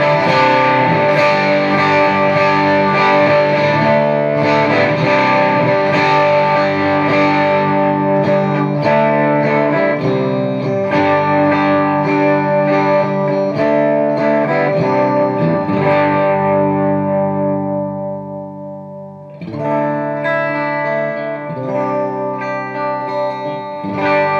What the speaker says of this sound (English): And now with Mojo Mojo Overdrive.